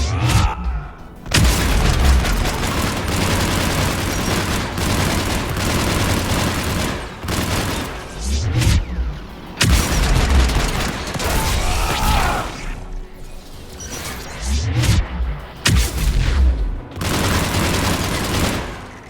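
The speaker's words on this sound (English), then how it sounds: "AA guns ahead of us." Anti-aircraft guns firing in the video game Mass Effect 3, heard as loud, dense, continuous barrages of booming shots and crashing impacts that roll on for the whole stretch, up close and with no talk.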